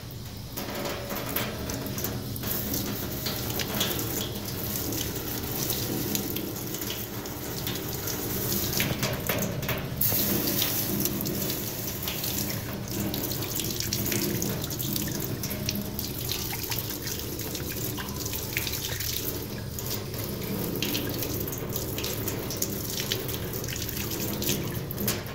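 Water runs steadily from a sink faucet in a home metalworking setup for casting scrap copper pipe, a continuous broadband rush that stays even and close for the whole stretch with no talking.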